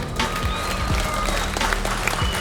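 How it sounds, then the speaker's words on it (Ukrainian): Crowd at a bare-knuckle fight event applauding a fighter from Valhalla Fighting as he is introduced, steady dense clapping filling the hall with a few louder claps standing out. "Ваші оплески Лукашу."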